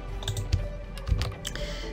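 A name typed on a computer keyboard during a craft design session, a few quick close key taps and clicks in short bursts, with no talk.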